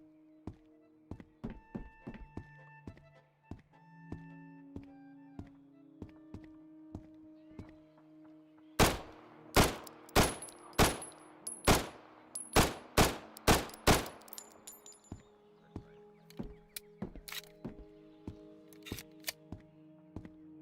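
Gunfire in the Road to Vostok video game: a rapid string of loud, sharp shots in a burst at the middle, with scattered single shots and thuds before and after, no talk.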